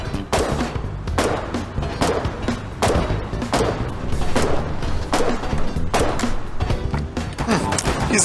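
Rapid bursts of gunfire strike a construction vehicle in the war game Foxhole, sharp cracks and impacts repeating in irregular volleys over several seconds with constant battle noise underneath.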